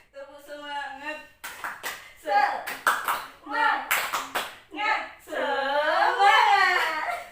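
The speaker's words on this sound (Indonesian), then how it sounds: "Oke, tepuk semangat." Children in a primary school class perform the tepuk semangat, a rhythmic clapping chant, with sung or chanted voices broken by quick bursts of sharp group claps, ending in a long drawn-out shouted call.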